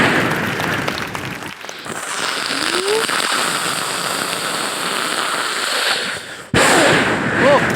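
A performer on a comedy stage show makes a beatbox imitation of rain with the mouth: a steady, dense hiss of patter lasting several seconds, loud and close, with a sharp brief cut near the end before the noise resumes.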